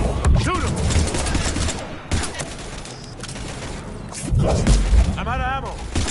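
Heavy gunfire and impacts in the video game Mass Effect 3 Legendary Edition, loud bursts clustered at the start and near the end, mixed with character voices.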